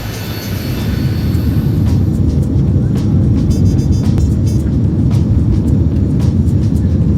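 A passenger airplane's engines roar loudly and steadily in a continuous low rumble, heard close up with faint clicks and rattles on top.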